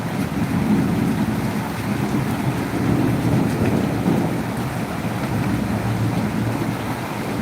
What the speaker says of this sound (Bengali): এটাকে বলে রহমতের বৃষ্টি